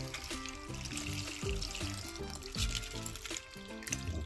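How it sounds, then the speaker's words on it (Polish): Water pours into a pot of eggs packed with onion skins for dyeing, a soft continuous splashing trickle that runs the whole time, faint and close, with a musical backing underneath. "Zalewamy wodą."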